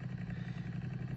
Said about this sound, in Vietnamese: Biến thành xe máy luôn.